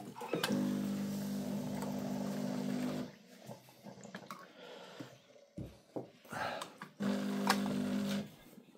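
A Sencor coffee machine brewing a coffee, its pump humming in a steady buzzing drone, then dripping and clicking before the pump hums again, fairly quiet and close.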